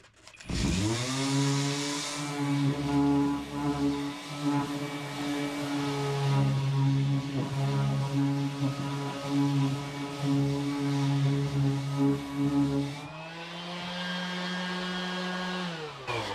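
A Hercules power sander from Harbor Freight runs steadily on a piece of wood, with a loud, sustained motor whine and grinding hum. The pitch drops near the end as it eases off.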